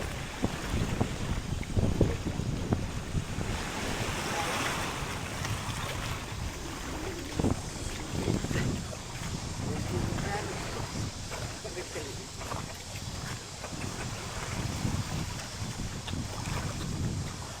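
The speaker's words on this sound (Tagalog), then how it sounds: "Hangin." Strong wind buffets over open water from a small fishing boat, a constant rushing roar with microphone gusts, lapping water and voices talking intermittently underneath.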